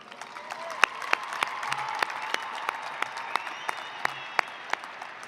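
A graduation audience at a 2016 Peoria High School ceremony applauds the seniors, a steady wash of many hands with sharp individual claps popping through, moderately distant and sustained throughout.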